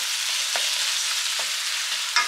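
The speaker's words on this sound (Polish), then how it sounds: "I teraz to mięsko podsmażam. Dodam jeszcze odrobinę sosu sojowego prosto do mięsa." Minced meat fries loudly over high heat with a splash of soy sauce, a dense, continuous close sizzle punctuated by several soft spatula scrapes and one sharper clack near the end.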